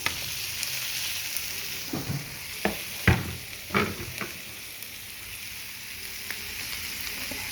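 Chopped papaya hits a hot pan and bursts into a steady, close frying sizzle, with a few sharp crackles and stirring knocks early on before the hiss settles into an even background.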